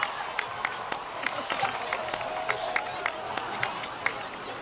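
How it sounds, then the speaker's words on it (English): Applause from a crowd in a Genshin Impact cutscene: moderate, steady clapping with sharp individual claps standing out, held at a fairly low level for several seconds without a break. "please give another round of applause for them"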